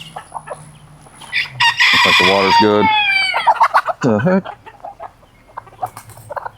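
Backyard coop chickens clucking and a rooster crowing loudly in a drawn-out call, with scattered clucks around it and someone speaking briefly in between.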